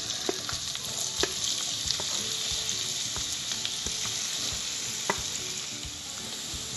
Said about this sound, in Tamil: டென் மினிட்ஸ் நல்லா எண்ணெயில ஃப்ரை பண்ணி கொடுக்கணும்